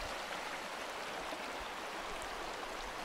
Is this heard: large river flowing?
yes